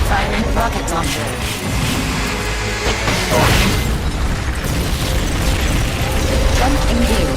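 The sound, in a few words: rocket launcher firing in Metal Gear Solid: Peace Walker video game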